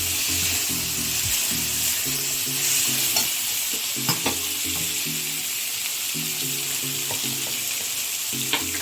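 Tomatoes stirred into fried garlic in a hot pan for paneer ghugni, producing a strong continuous sizzle with scraping and a few sharp spoon taps against the pan, close up, faint background music, no talk.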